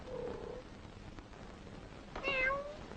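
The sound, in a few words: cat meowing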